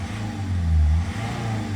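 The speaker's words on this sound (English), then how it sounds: "I've just blipped the throttle just to clear out any remaining petrol." A Citroen C5 diesel engine revs once as the throttle is blipped, its low hum swelling to a short peak and settling back to a steady idle, close and clear.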